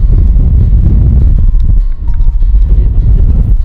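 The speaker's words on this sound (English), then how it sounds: "It's so windy." Strong wind on an Icelandic black sand beach buffets the microphone in a steady, loud low roar that continues without a break, rumbling and gusting throughout.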